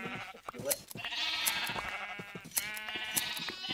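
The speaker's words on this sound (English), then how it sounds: "I just need to shear the sheep" Sheep in a video game bleat loudly in repeated wavering cries while being sheared, with short clicks and taps scattered between the calls and no talk.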